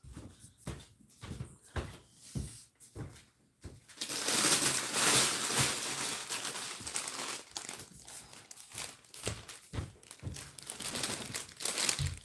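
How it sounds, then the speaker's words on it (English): Plastic bag crinkling and rustling as it is handled in a home kitchen, sharp crackles in bursts at first, then a sustained dense rustle before returning to intermittent crinkles, close and fairly loud. "I did put this in a plastic bag because it's sitting in my kitchen"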